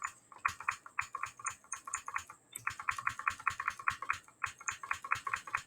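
Rapid, crisp clicks of keys being typed on a computer keyboard close up, coming in steady bursts with one brief pause, and no voices over them.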